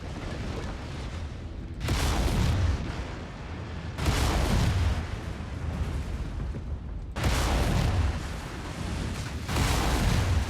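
A weapons depot blows apart in Mechwarrior 5 with a run of heavy booming explosions, each deep blast swelling and rumbling for a second or two before the next, loud and close.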